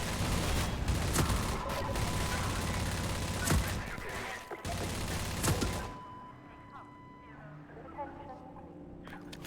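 Pistol fire in Half-Life 2 cracks out in sharp, rapid shots over a dense din of game noise, then the racket drops away to quieter ambient sound and faint tones.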